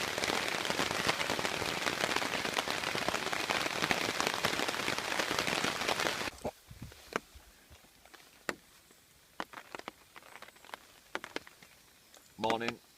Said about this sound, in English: I've just woke up to the sound of rain